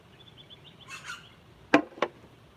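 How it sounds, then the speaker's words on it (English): A few soft bird calls come first, then two sharp, loud chirps ring out close by against a quiet background. "birds are noisy this morning"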